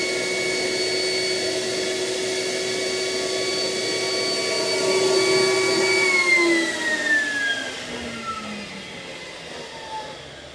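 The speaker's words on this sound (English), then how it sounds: "And you can see we're starting to pump it out." Battery-powered sump cleaner pumping coolant out of a machine sump at about 60 gallons per minute, a steady close vacuum-like whine and rush with rising and falling tones, swelling midway then easing off.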